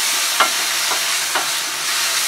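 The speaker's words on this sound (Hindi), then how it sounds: "अब इसमें हम डाल देंगे जिंजर गार्लिक पेस्ट और इसे हल्का सा भून लेंगे।" Ginger garlic paste fries with golden-brown onions in a pan for chicken tikka masala, making a steady close sizzle broken by three soft spoon strokes.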